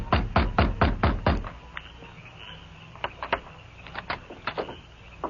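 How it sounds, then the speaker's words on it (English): Heavy pounding on a wooden door as a radio drama effect, a quick series of loud knocks, then a pause and a second, softer burst of rapid knocking. "Then he pounded on the door."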